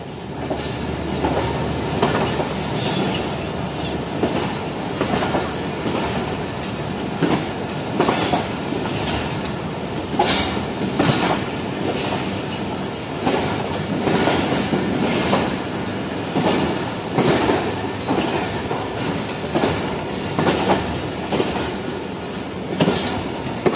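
A train rolls into Hyderabad Junction past the 14 Down Awam Express, with steady rumbling and repeated clickety-clack of wheels over rail joints, loud and close throughout.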